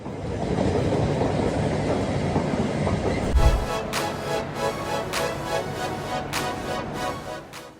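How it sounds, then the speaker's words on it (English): A freight train hauling Toyota cars rolls past with a steady heavy rumble. Partway through, a sharp thump gives way to a rhythmic run of clacks and rattles as the wagons pass close by. "Toyotas are so high in demand, they need a whole train to make deliveries."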